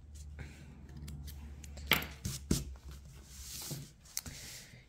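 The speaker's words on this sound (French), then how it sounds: "On coupe les excédents." Scissors snipping off excess thread at close range, several short sharp cuts spaced irregularly over quiet background.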